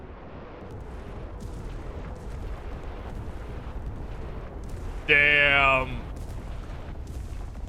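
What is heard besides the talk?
artillery ranging shots exploding in the video game Enlisted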